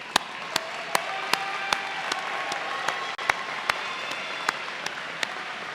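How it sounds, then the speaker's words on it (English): Steady, full applause fills the room at a 2019 Rowan University commencement ceremony for graduating science, mathematics and health students. Sharp isolated claps stand out at regular intervals above the continuous wash of hands. "Let's applaud them as you stand here ready to graduate."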